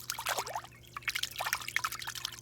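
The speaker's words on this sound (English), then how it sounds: "you're gonna have to go to your nearest pond or lake and wash it off" A paintbrush is swished and rinsed in pond water, giving soft close splashes and trickling dribbles in quick irregular bursts.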